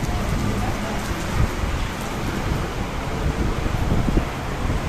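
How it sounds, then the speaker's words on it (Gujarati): Heavy rain pours down steadily, a dense, loud hiss of drops hammering surfaces with some wind noise, continuous throughout and with no voices. "આ એટલો જોરદાર વરસાદ પડે છે અત્યારે"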